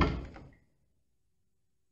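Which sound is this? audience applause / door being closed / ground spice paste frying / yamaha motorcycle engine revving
door being closed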